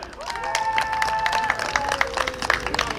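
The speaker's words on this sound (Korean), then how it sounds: "박수 주세요." A busking crowd claps in a continuous round of applause at Jeongdongjin Hourglass Park in Gangneung, with sustained tones and light cheering mixed in.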